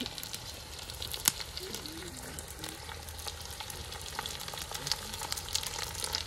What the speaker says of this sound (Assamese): এতিয়া আমি লোকেল চিকেনখিনি দিম